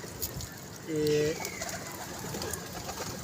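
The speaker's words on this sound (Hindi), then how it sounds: "लो जी ये कलदुम्बा कबूतर है।" A Kaldumba pigeon gives a short, close coo from a pigeon keeper's loft, one brief call against soft background noise, with people talking around it.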